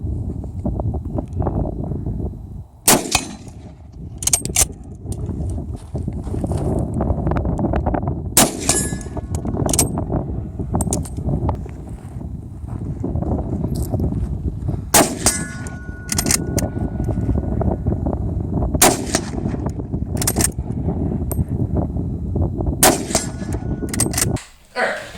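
A Swiss K31 bolt-action rifle fires outdoors in several loud, sharp reports spaced seconds apart, each followed by metallic clanks of the bolt, over steady background rumble and wind.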